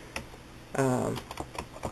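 Fingers tap out a zip code on a computer keyboard, a brief cluster of light, close clicks with a louder burst partway through.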